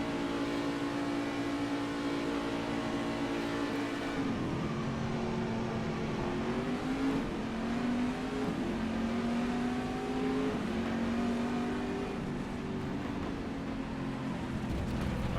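GTE race cars in the rFactor 2 video game accelerate hard off the start at Magny Cours, several engines whining and revving together in a continuous layered roar with rising gear-change pitches.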